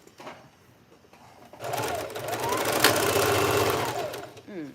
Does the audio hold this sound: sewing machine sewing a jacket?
yes